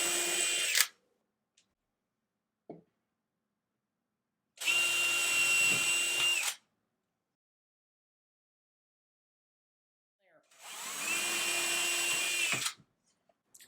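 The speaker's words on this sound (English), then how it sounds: "I'm going to go ahead and pre-drill the rest of my holes where the tape is" A power drill pre-drills screw holes through taped marks on a wooden shelf board, sounding in three separate bursts of about two seconds each, with silent pauses between them.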